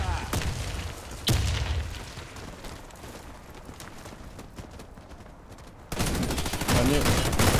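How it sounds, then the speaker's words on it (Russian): Grenade blast in the Warface shooter, a loud burst near 1.3 s and another swell near 5.9 s set against steady gunfire and game noise. "Кидаю гранату!"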